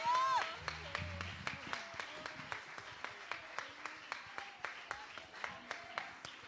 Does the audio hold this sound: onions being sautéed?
no